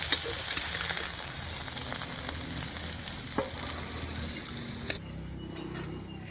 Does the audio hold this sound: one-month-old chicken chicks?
no